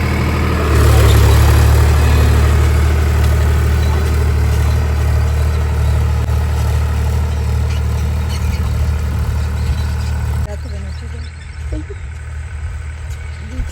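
Tractor ploughing a field, a loud, steady low engine drone running continuously before dropping off sharply near the end, leaving quieter background noise.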